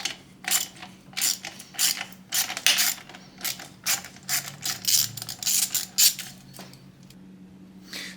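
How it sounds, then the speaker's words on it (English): A ratchet with a 10mm socket loosening a muffler clamp on a Yamaha FJ09 Tracer, rapid close clicking bursts repeating in short strokes with brief pauses between them. "I'm going to loosen the muffler clamp with this 10mm."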